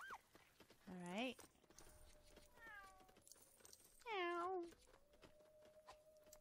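Crookshanks the cat meowing in the video game Lego Harry Potter, two clear drawn-out meows over soft clip-clop footsteps, with a voice briefly imitating a meow.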